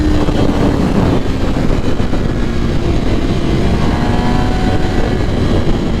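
A 2021 MV Agusta Rush motorcycle with an ECU flash tune runs hard at full throttle, a loud, steady engine roar mixed with heavy wind rush that holds for several seconds without letting up.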